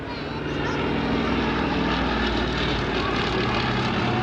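Fairey Swordfish torpedo biplane flying at an air show, a loud steady propeller-engine drone that holds and swells slightly throughout with no pauses.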